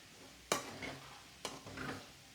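Egg fried rice being gently stirred after a little soy sauce is added, with two sharp utensil scrapes against the pan followed by soft sizzling stirs, close and moderately quiet.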